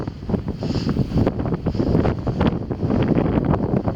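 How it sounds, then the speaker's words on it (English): Loud, constant wind buffeting the microphone, with rumbling gusts and crackling noise throughout and no voices. "Very windy"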